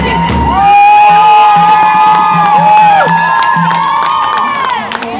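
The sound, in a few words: crowd cheering and applause at a rally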